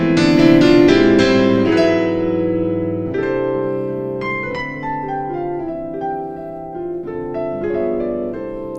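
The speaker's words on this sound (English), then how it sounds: "piano sound from this Numa XGT stage piano from Studiologic" A jazzy Christmas intro played on a Numa XGT stage piano from Studiologic, opening with rich, full chords and moving into lighter single notes and smaller chord voicings, played alone and close.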